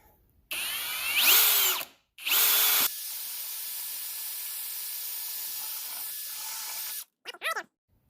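Power drill boring through wood clamped in a Rockler portable drill guide: a short high whine revving up, a pause, then a longer sustained run of the motor and bit grinding, ending with brief squeaky bursts after a gap.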